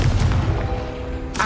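A Confringo fire spell bursts in Hogwarts Legacy, a loud booming blast with rumbling low impacts across the whole moment and a fresh sharp burst right at the end.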